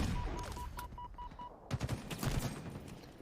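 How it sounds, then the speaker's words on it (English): Sniper rifle shots ring out in a Halo esports match, a few sharp cracks in quick succession over game background noise. "More attempted sniper shots right there."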